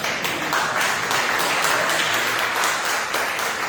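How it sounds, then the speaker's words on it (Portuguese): A church congregation applauds a group in a steady, dense wash of many hands clapping at close range, holding even and loud throughout with no talk over it. "Aplaudir o grupo lá, gente."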